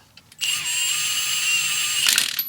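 Power tool, likely an impact driver, snugging lug nuts on a wheel of a Subaru WRX or STI before torquing; one sustained close, loud whirring burst of about 1.7 seconds, ending in a few clicks.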